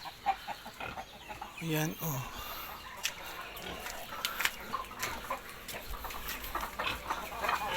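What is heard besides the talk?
backyard chickens clucking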